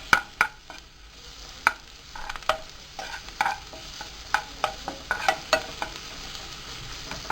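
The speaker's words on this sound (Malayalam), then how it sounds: "വെള്ളുള്ളി, ഇഞ്ചി, പച്ചമുളക് അത് അരച്ചിട്ടുള്ള പേസ്റ്റ് ഇട്ട് കൊടുത്തു. അതിനെ ഒന്ന് ചൂടാക്കിയിട്ട്" Garlic, ginger and green chilli paste sizzles and fries in a pan. A steady spitting hiss runs under repeated sharp clicks and scrapes of a spoon stirring against the metal, with no voices.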